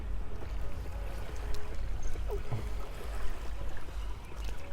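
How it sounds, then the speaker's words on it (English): Water swishes and laps steadily as a boat glides along, with a low engine-like rumble underneath and a faint chirp partway through. "It's a revelry boat. You can see him moving along there."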